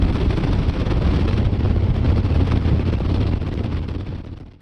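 A 2019 Harley-Davidson Fat Bob motorcycle rumbles on the move, its low engine drone mixed with heavy wind buffeting the microphone, steady and loud before fading slightly at the end.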